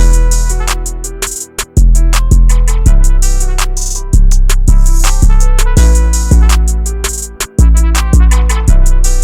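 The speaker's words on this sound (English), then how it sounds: "I added these 2 like laser effects from my drum kit" Loud trap beat with punchy kicks and rapid hi-hats, dropping out briefly twice for short sweeping laser-like zaps before the drums return.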